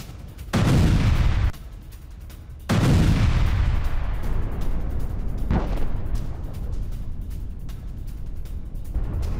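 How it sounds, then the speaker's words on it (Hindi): A rocket strikes a vehicle in Middle East conflict footage: two heavy, close blasts a couple of seconds apart, then a sharper third thud, with a roaring, crackling rumble lingering throughout. "रॉकेट गाड़ी में लगता हुआ दिखाई दे दिया"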